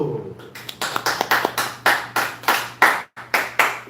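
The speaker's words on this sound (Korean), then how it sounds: "박수 한번 쳐주세요" An audience at a Korean church broadcast claps in rhythmic unison, about a dozen loud, evenly spaced group claps with a brief pause near the end and a low hum underneath.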